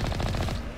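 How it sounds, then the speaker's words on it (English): The Mako's mounted machine gun in Mass Effect fires a rapid, loud burst of evenly spaced shots up close, then cuts off near the end. "And I've got a machine gun."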